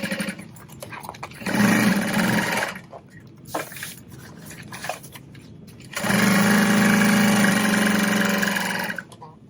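A sewing machine stitches through the folded bottom edge of a tote bag in two loud, steady bursts separated by a pause filled with handling noises.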